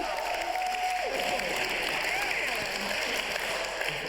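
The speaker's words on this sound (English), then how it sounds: "You're clapping for this guy?" Audience clapping and some cheering heard as a steady, somewhat distant wash of applause, playing back behind a faint tonal line and light background noise, with no clear speech on top.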